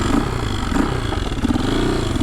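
A KTM 450 EXC supermoto motorcycle, a 2003 bike restored and converted, runs loud and close while ridden, its single-cylinder engine droning with uneven revving pulses and wind rush.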